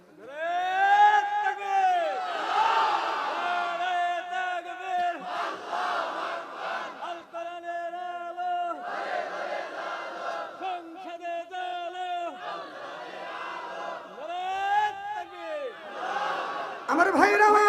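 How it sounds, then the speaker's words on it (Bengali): A large crowd at an outdoor Islamic waz sermon shouts the takbir chant in repeated loud, rhythmic call-and-response waves, voices swelling together and fading between bursts for the whole stretch. "একটা তাকবীর দেন তো দেখি।"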